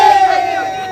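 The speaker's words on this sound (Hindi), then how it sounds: "और फिर सेम ऐसा ही कहा जाएगा बिन्नू के सारे चाचास और ताऊ को कि हूटिंग करो।" A short, loud burst of relatives hooting and cheering at a haldi ceremony before a brother's wedding, a sustained high whooping cry over a mixed crowd noise lasting about a second.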